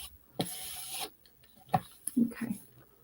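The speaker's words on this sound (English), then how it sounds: "I'm going to take my little my little block, my sanding block, and cut the edges." A small sanding block rasps along the edges of decoupage paper, trimming it on a craft board. Three or four short, quiet scraping strokes come in uneven bursts, with no talking.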